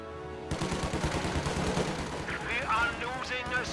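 Grenadier squads firing guns in a video game battle, a dense rapid crackle of overlapping gunfire with distant bursts, a voice speaking over the battle noise.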